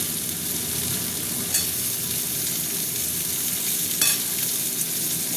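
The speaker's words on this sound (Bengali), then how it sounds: "আলুগুলো পেঁয়াজের সাথে ভাজবো" Potatoes frying with onions in a pan make a steady, close sizzle that continues throughout, with a couple of brief stirring scrapes.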